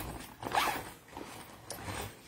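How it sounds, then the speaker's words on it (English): The front zipper pocket of a bag is unzipped close up, a quick rasping zip followed by softer scratchy pulls and fabric rustle. "So here is the front zipper pocket."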